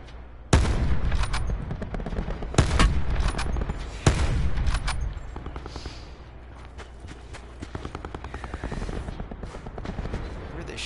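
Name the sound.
gunfire in the video game Call of Duty Blackout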